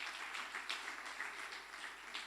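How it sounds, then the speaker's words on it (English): An audience at a spring lecture series claps after questions and comments, a faint, even patter of many hands heard from a distance, sustained without pause. "let's have another round of applause for the questions"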